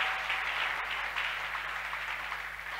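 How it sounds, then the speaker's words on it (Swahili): A church congregation clapping in praise of the Lord, a dense, steady round of applause that carries on without a break, heard over a faint background hum. "Tunaweza kushangilia juu ya Bwana."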